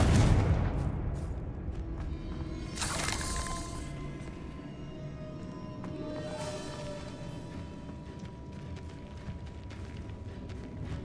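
A Confringo blasting spell in Hogwarts Legacy lands with a booming burst, followed by a crackling fiery burst about three seconds in and lingering mechanical debris rattle and ringing tones afterward.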